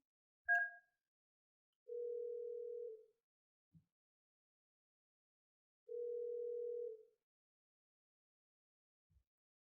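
Two long, steady, low telephone tones, each about a second long, sound on a Mainstream phone handset, separated by a quiet gap. A short higher beep comes first and a few faint clicks follow.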